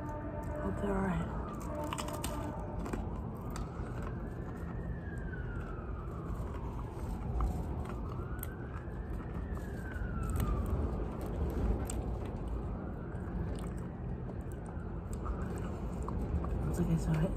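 A police car siren wails outside, its rising and falling tone repeating every few seconds at moderate distance beneath indoor room noise.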